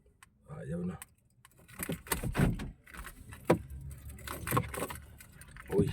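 A bunch of car keys jangles in the hand beside a car that will not start, with repeated bright metallic clinks and rattles in bursts, close by, while people talk over it.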